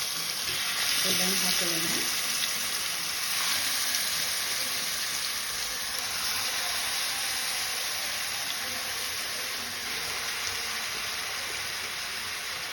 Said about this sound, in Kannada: ಈಗ ಮ್ಯಾರಿನೇಟ್ ಮಾಡಿದಂಥ ಚಿಕನ್ ಹಾಕೊಳ್ಳೋಣ. ಅದು ಈರುಳ್ಳಿ ಕಾಯಿಸಿದ ಆಯಿಲನ್ನೇ ಹಾಕಿ ಫ್ರೆಂಡ್ಸ್